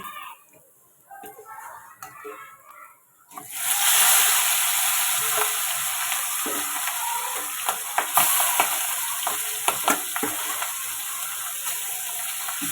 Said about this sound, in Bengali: বাকি মাছটাও ভেজে নিচ্ছি